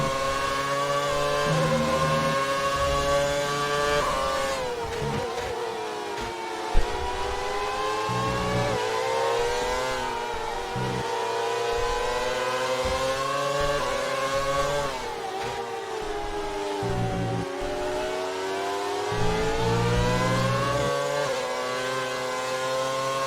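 Formula 1 cars race around the Spa circuit at the Belgian Grand Prix in F1 2019, engines screaming continuously with rising and falling pitch as cars accelerate and shift, a steady loud drone with no talk.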